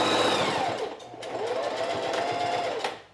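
A sewing machine stitching a gap closed in a handmade t-shirt sleeve, a close, fast motor whir that dips briefly, picks back up and then stops.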